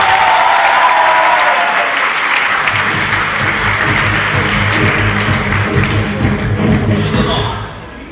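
Audience at a student competition final on stage, applauding loudly in a dense, sustained wash of clapping that gradually tapers off, with a voice speaking over it.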